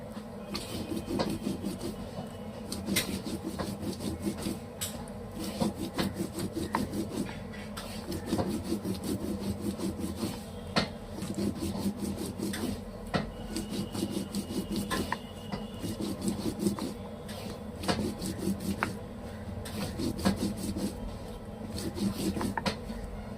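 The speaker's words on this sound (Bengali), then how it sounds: "লঙ্কাটা আমি বেটে নিচ্ছি।" Chili is crushed by hand on a grinding stone in a home kitchen. A steady, rhythmic rasping rub repeats back and forth at close range, with a soft voice speaking now and then.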